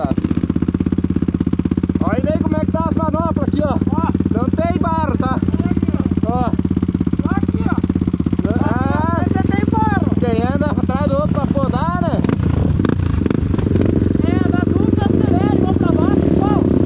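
A dirt bike idles and revs on a trail ride in Piratuba, Santa Catarina, a loud, close, continuous engine drone with rising and falling throttle blips, while someone talks over it.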